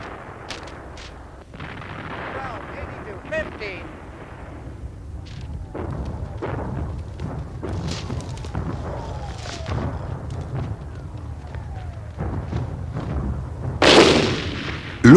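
World War I artillery fires in repeated heavy booms and thuds at irregular intervals, some distant and rumbling, others sharper and closer, with a louder burst near the end.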